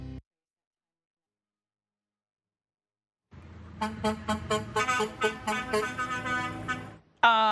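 Truck horns from a charity truck convoy of about 200 drivers at 12 Wings Shearwater, heard as a loud series of repeated blasts with engine rumble after a silent opening, ending on one more burst.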